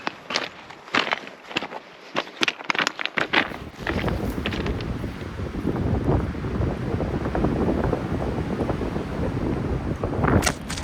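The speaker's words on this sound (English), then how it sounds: "It's also a very windy day." Strong wind roars against the microphone at an outdoor creekside spot in the Idaho wilderness, turning into a continuous heavy buffeting after a few sharp rustling thumps at the start.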